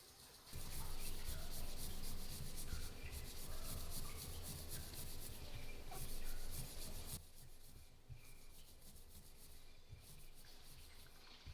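Steady abrasive rubbing of fine powder sandpaper on an IKEA glass cup, loud and continuous near the mic, easing to a quieter scrubbing after about seven seconds.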